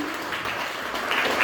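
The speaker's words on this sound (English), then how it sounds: "Please give him a round of applause," Audience at an event applauds the MC, a steady, fairly soft wash of clapping that swells slightly toward the end.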